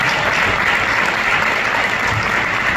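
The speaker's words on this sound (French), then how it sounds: "Vous pouvez l'applaudir à lui" An audience in a hall applauds with dense, steady clapping that stays even and continuous, loud and close.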